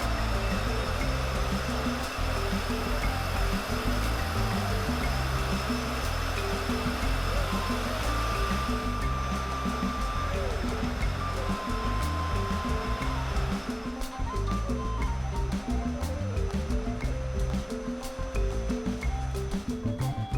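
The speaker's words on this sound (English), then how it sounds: "It will be drafted 20 to 30 times, which means every foot of roving that goes into the spinner will come out as 20 to 30 feet of yarn" A yarn spinning machine drafts alpaca roving into yarn, giving off a constant loud mechanical whir and hum that runs through the whole span with a faint high tone, and no voices.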